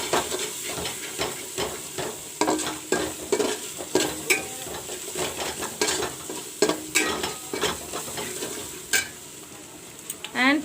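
Ginger, garlic and onion frying together, a continuous hissing sizzle broken by frequent sharp scrapes and clinks of a utensil stirring against the pan, close and fairly loud with no talk.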